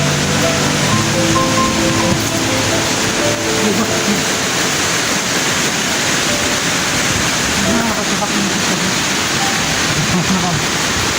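A mountain river in the Hisor range of Surxandaryo rushes among rocks in a loud, continuous, close broadband roar, with brief tonal traces at the start.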